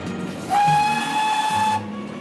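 A steam whistle blows one clear sustained tone for about a second over a hissing, rumbling background of a steam locomotive.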